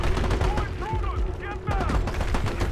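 Enemy gunfire in the video game Army of Two: dense, continuous bursts of rapid shots and impacts under busy game effects, with faint talk mixed in.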